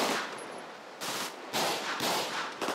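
Zombie-shooting gunfire in GTA 5 cracks out in rapid bursts, with dense volleys separated by brief pauses. The shots are loud and fill the clip, with no talking over them.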